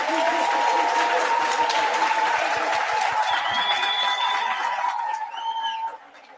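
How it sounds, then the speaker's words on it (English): A large audience applauds at a memorial lecture in a hall, steady dense clapping that holds for several seconds with a faint sustained tone underneath, then thins and trails off near the end. "Can we give them a round of applause?"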